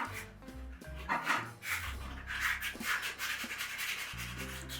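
Rhythmic rubbing and scraping strokes of sanding on a plastic cat flap repeat close by, with faint low tones underneath.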